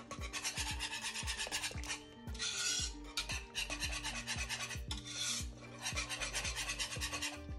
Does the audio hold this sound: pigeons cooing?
no